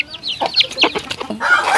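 Chickens cluck close by at a home in the Philippines, a string of short, quick clucks and squawks in an uneven rhythm, loud and alone with no talk.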